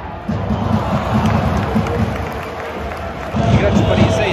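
Football stadium crowd of angry fans at a Paris FC vs Metz match, a loud continuous roar with surges of shouting near the start and again toward the end.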